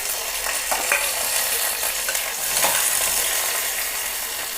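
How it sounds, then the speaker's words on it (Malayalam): Shallots sauté in a hot pan as a piece of ginger and curry leaves go in, making a continuous close sizzle broken by a few light stirring scrapes, with no voices. "ഇനി നമുക്ക് ഒരു ഇഞ്ചിയുടെ കഷ്ണം കുറച്ച് കറിവേപ്പില ഇട്ട് കൊടുക്കാം."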